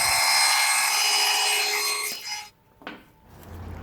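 Oak box having its lid sawn off, a steady, loud rasping cut of wood that runs for about two seconds before stopping, followed by a few brief scraping handling sounds.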